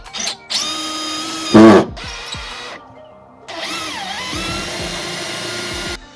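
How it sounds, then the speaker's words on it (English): A power drill driving screws to fix a battery bracket into the rear floor of a 2004 BMW 320i, heard as loud, close motor whines in several bursts with rising and falling pitch, short pauses between, and no talking. "screw this battery bracket into the floor back here"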